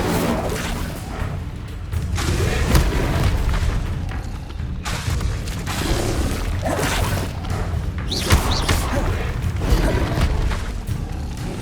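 Incendio fire spell cast repeatedly in Hogwarts Legacy, heard as several booming whooshing bursts with thuds, spaced a few seconds apart over game background noise.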